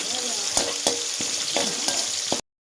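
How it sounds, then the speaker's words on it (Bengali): Whole spices—cloves, cardamom, cinnamon, cumin and black pepper—dry-roasting in a pan, a steady close crackle and hiss with several scraping stirs at regular intervals, no voices. "এটা আমি এখন একটা ভাজা মশলা তৈরি করে নেব"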